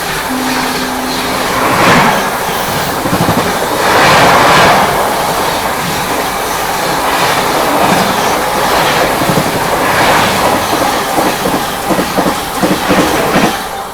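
The Ajmer Sealdah Superfast Express rushes past at close range, a loud, continuous roar of wheels with repeated clickety-clack bursts and a brief high whistle-like tone near the start, with no talking.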